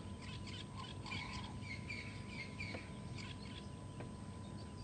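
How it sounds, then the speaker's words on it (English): Several wild birds, including Cape turtle doves, weavers and francolins, call and chirp at once on a morning safari drive, mixed whistles and short notes over a low background hum, fairly distant. "So many beautiful bird calls."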